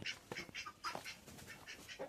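A duck quacks repeatedly in quick, nasal bursts, close by but quiet, with brief pauses between calls.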